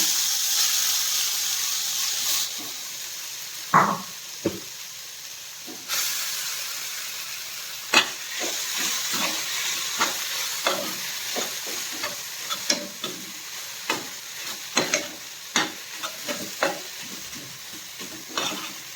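Hot oil spatters and hisses as chopped chillies fry, with a steady sizzle and frequent sharp pops and crackles that grow busier toward the end, close by with no talk.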